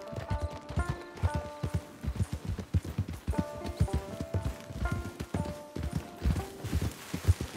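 Horse hooves clip-clop in a steady, rhythmic trot over soft background music in Red Dead Redemption 2 Online, each hoofbeat distinct and close.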